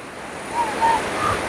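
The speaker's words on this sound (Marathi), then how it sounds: "छान लाटा येतात, मस्त लाटा येतात एकदम." Surf at Nandgaon Beach near Murud Janjira washes in a soft, continuous roar, with wind noise over it and a faint swell toward the middle.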